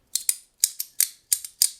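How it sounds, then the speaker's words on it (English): Sharp metallic clicks from an Ukiyo Studio Nuclear haptic coin fidget toy, most in quick doubled pairs, repeating at an uneven pace, close up and crisp against silence. "It's not the best sounding haptic coin I have ever heard"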